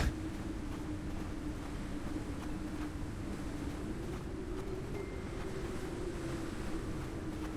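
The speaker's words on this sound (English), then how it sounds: "Very windy up here too." Steady, low rushing wind blows continuously on a tundra planet in the video game Astroneer, with a faint droning hum underneath, fairly quiet and unchanging throughout.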